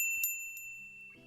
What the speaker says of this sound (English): A little bell above the door signals my arrival to an empty counter